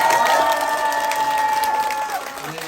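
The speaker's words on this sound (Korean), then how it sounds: "박수 한번 세게 한번 보내주세요" A crowd applauding and cheering in a sustained wash of noise, with a thin tonal whine running through it.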